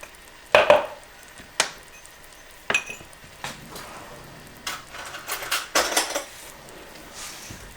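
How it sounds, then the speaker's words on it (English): Cornstarch is whisked in a small bowl, giving sparse clinks and taps of metal against a dish in short irregular bursts, close by and moderately loud. "I'm going to whisk this cornstarch"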